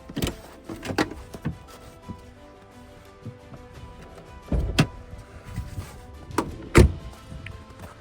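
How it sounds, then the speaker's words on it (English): A hood latch popping on a 2004 Land Rover Discovery 2 with a 4.6 engine: a few sharp mechanical clunks and thunks, loudest near 4.5 and 6.8 seconds, with quieter rattles in between and no talking. "Might help if I pop the latch."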